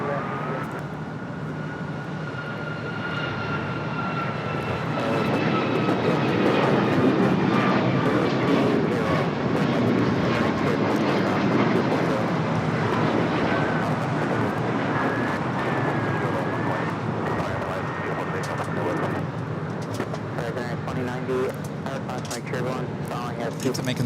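A United airliner arriving from Newark touches down at LAX, with a sustained jet roar that swells and holds, tonal engine whines gliding over it and a voice talking intermittently above it.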